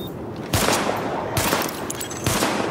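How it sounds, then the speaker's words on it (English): Short bursts of rapid sidearm fire at targets in Tom Clancy's The Division, three loud close volleys separated by brief pauses under a constant background hiss. "Open fire at the highlighted targets."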